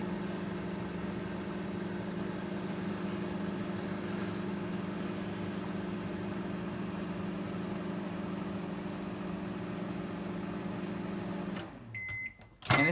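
A microwave oven running while heating rupee notes, a steady close hum with a low mechanical drone that carries on unbroken, then stops near the end with a short beep.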